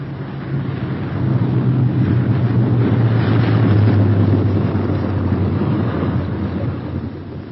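A B-17 Flying Fortress bomber comes in to land with its left inboard engine dead, giving a steady, loud, rumbling drone that swells and fades slightly over several seconds, with no voices.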